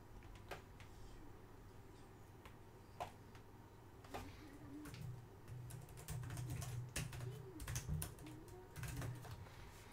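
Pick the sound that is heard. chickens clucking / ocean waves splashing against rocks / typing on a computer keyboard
typing on a computer keyboard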